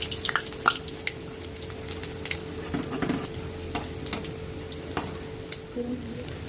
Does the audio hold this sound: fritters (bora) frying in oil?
yes